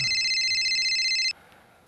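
A mobile phone ringtone plays loudly and steadily as a bright repeating electronic tone, then cuts off abruptly just before the end, leaving quiet room sound.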